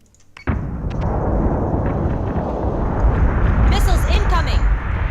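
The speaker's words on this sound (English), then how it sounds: "Missiles incoming! Minerva is taking damage." Missiles slam into a warship in the space strategy game Battlestar Galactica: Deadlock, a sudden heavy impact followed by a sustained rumbling barrage of explosions with sharp crackles near the end, loud and continuous.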